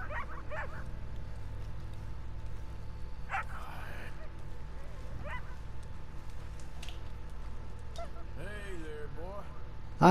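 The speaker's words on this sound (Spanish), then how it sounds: "Ah, es un perro." A dog in the Red Dead Redemption 2 video game gives repeated short yips, whimpers and barks, scattered through the clip over a low, steady game ambience.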